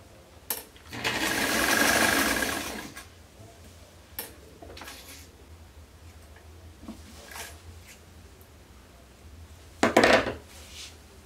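Domestic sewing machine stitching fabric for a pet tent, running in one loud sustained burst of about two seconds, followed by quiet handling clicks and a second short whirring run near the end.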